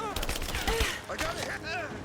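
Rapid gunfire in a video game rattles off in quick clustered bursts, close and fairly loud, with excited voices talking over it.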